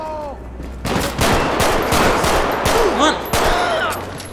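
Rapid pistol and automatic gunfire in a GTA 5 police SWAT shootout, bursts of shots cracking loudly and continuously for several seconds, with someone briefly talking over the firing.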